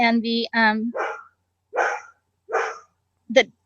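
A rural dog near an unfinished off-grid home gives a few sharp barks, spaced out and fairly close, with a brief breathy sound between them.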